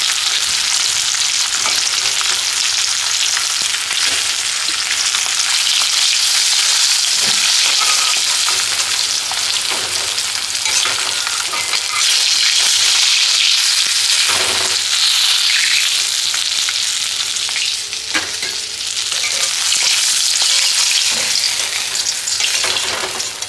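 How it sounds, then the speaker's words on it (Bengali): Pieces of Rupchanda pomfret fish frying in oil in a pan, a loud, continuous close-up sizzle and crackle with occasional stirring or turning sounds, no talking. "মাছটা ভাজা হয়ে গেছে, এটা বেশি কড়া করে ভাজবো না,"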